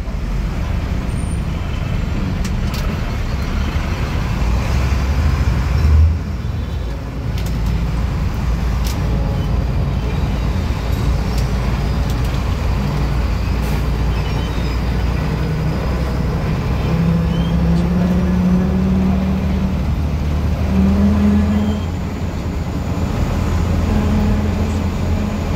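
Continuous rush-hour road traffic in Davao City on the way to the airport: steady engine rumble from cars, buses and trucks with occasional air-brake hisses, close and loud throughout, no talking.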